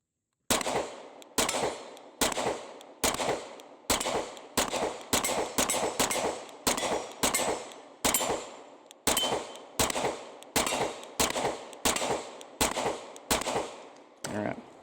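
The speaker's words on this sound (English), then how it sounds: "let's go ahead and put some rounds down range with the C" Gunshots from a rifle fitted with an Osight C red dot sight fired down range, about two dozen sharp reports in a steady, evenly paced string, loud and close, with brief pauses between some shots.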